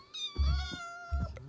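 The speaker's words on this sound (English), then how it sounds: "But we also have the cats." A cat in the Minecraft video game meows twice, two short tonal calls with a brief gap between them, clear and close with no other sound.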